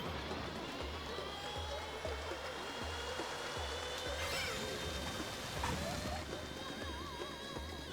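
Rushing waterfall in the Mario Kart 8 Deluxe racing game, a steady broad water roar running throughout with game engine hum and faint effects layered over it.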